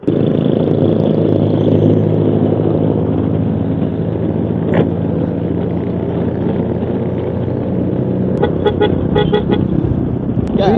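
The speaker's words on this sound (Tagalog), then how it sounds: "Ayan na, may paparating. Naku po, tricycle pa nga, tsaka sasakyan." A tricycle and a car approach along a winding scenic Bataan loop road, heard as a steady, loud motor drone from start to finish, with a short horn toot near the end and a few brief clicks.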